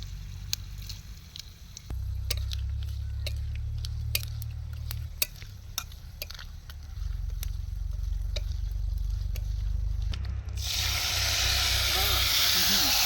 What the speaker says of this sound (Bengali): শুকনো লঙ্কা দিলাম, তেজপাতা, ফোড়ন দিলাম 5 ফোড়ন।